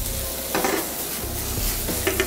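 Bacon sautés with julienned peppers and onions, a loud close sizzle with quick stirring scrapes and light clatter from the pan, continuous and with no voices.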